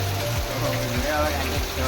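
Rain falling steadily, a dense continuous hiss filling the scene with faint low tones underneath.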